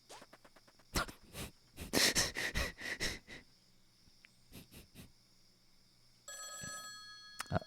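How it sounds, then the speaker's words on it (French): A telephone rings in the video game Rhythm Sprout, a steady electronic trill near the end after several sharp percussive hits and hissing effects, with no talking. "Ah, téléphone du roi."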